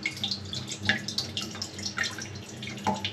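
Water drains from a cracked new toilet into a bucket, giving a soft, continuous trickle with scattered drips and splashes, moderately quiet and close, with no talking.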